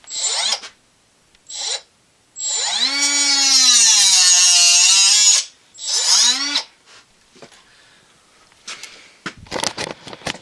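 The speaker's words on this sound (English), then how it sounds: "this is the first time cutting it on a fuel hose" A small handheld power cutter whines loudly through a fuel hose, running in short bursts and then a long steady cut with pitch sweeping as it loads, followed by faint handling clatter.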